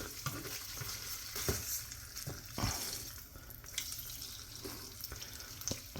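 An egg fries in grease in a pan with a soft, steady sizzle, broken by occasional clinks and scrapes of a utensil, all faint and close.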